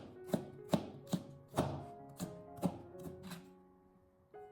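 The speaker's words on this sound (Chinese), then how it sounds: "最后我们再将它改刀切成莲藕丝" A knife chopping lotus root into thin strips on a cutting board, a series of crisp, close chops at an uneven pace with short pauses between strokes.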